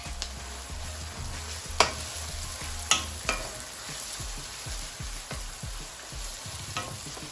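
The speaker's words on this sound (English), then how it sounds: "Saute it up. Also adding my carrots." Carrots and sweet peppers sauteing in a pan for coconut curry shrimp, a steady close sizzle broken by repeated low scraping strokes of a spoon and a few sharp clinks against the pan, with no talking.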